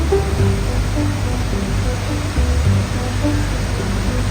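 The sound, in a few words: Athirappilly waterfall, water crashing down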